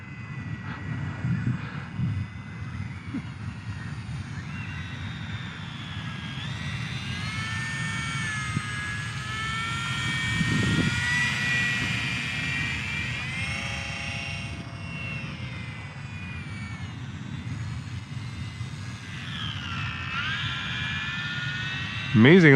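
An Eachine Mini P-47 RC warbird plane flies overhead with a whining electric motor whose pitch rises and falls as it passes, steady and moderately loud across the whole stretch, while someone talks over it.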